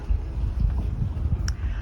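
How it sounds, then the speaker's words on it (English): Wind blows steadily past the microphone beside a lake at a marina on a hot August day, a continuous low rumbling gust with no speech and one brief faint tick near the end. "out here by the lake, we got a nice breeze coming in from the north"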